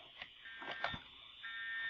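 Fire alarm sounding in a Roblox middle school during an alarm test, a steady electronic tone heard at a distance with faint thumps and movement around it.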